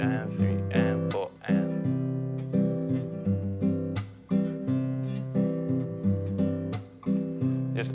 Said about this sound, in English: you're going to punch the strings with those fingers and just get a little